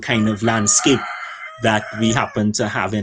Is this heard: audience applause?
no